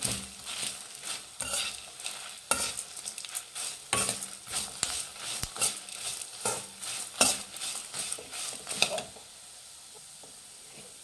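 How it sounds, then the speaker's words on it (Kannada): Spices for bisi bele bath powder frying on a low flame, a soft steady sizzle under repeated scraping and stirring strokes in the pan, close by, before the stirring stops and only a faint hiss remains. "ಲೋ ಫ್ಲೇಮಲ್ಲೇ ಇಟ್ಕೊಂಡು ಫ್ರೈ ಮಾಡ್ಕೊಬೇಕು."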